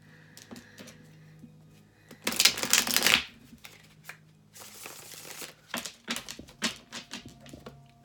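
Close, quiet tarot card shuffling: a loud riffle, then a longer burst, followed by lighter tapping and rustling of the deck.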